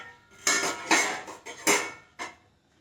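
Metal lid clattering on a cooking pot of dried prawn and drumstick curry, four sharp clanks in an uneven rhythm that ring briefly and fade, close by and alone.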